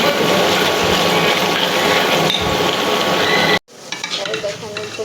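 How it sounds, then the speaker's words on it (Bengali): Meat cooking in a pot on a gas stove, a loud steady sizzle and frying hiss with stirring that cuts off abruptly, leaving quieter kitchen clatter. "চুলায় হচ্ছে আমি মাংসটা বসিয়ে দিয়েছি"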